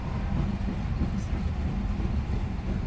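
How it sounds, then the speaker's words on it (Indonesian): A Walahar commuter train pulls into Karawang station, a steady loud low rumble of rolling wheels and engine filling the scene without break. "kereta api komuter lain Walahar telah tiba di stasiun Karawang"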